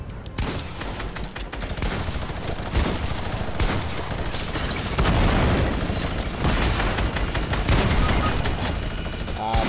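Heavy video game gunfire in a team shooter, with dense continuous bursts and booms and rapid shots overlapping for nearly ten seconds, loud and close, mixed with occasional talk.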